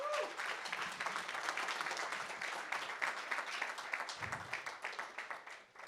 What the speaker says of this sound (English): Let's give the panelists a hand clap,